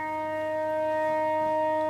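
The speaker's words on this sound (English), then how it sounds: "that's a Shabbat siren" The Shabbat siren sounds over Jerusalem as one steady, unbroken tone. It carries loud and sustained across the city, with no voices.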